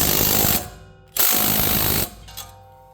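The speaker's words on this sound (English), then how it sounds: "That's a 3/8 inch gun." A 3/8 inch air gun snugs a bolt during vehicle suspension work before an alignment: two loud rattling bursts, about half a second and one second long, then a short tapping tail, close by.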